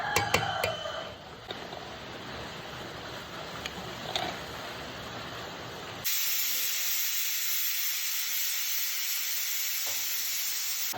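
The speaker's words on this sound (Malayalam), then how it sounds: "വെള്ളമൊക്കെ ഇവിടെ തിളച്ച് റെഡി ആയിട്ടുണ്ട്." Water boiling in a pot for steaming puttu, first with faint clatter and then a steady loud steam hiss that runs on unbroken, with no talking.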